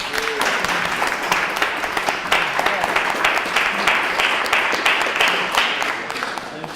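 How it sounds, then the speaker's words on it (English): An audience at a medical talk on cancer screenings applauds with steady, dense clapping from many hands that stays loud throughout and tapers slightly at the end. "Give them another round of applause."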